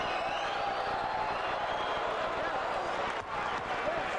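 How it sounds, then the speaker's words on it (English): Steady, dense roar of an arena crowd at a December 1983 Detroit Pistons at New York Knicks basketball game while Isiah Thomas shoots free throws, filling the whole stretch with a brief dip near the end and a commentator talking over it. "Isaiah Thomas on the foul line, and here comes the crowd again"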